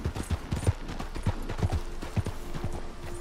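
Rhythmic clip-clop of horse hooves trotting in the video game Red Dead Redemption 2, steady and fairly close, with a faint tonal hum in the background.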